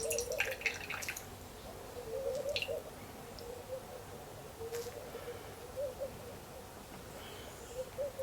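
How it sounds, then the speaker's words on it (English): Water drips off a squeezed, soaked natural face round in a few faint, irregular drips and trickles against a quiet room background. "there's a lot of water coming off just as is, but now I will squeeze it out."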